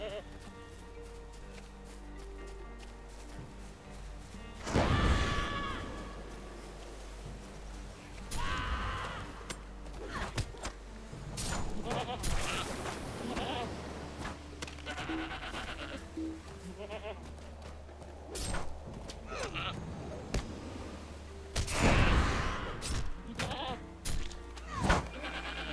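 Goats bleat in the LOTRO online game, several loud close calls rising over a busy game soundscape with mechanical clatter and faint hoof clip-clop, a few separate cries spread across the stretch.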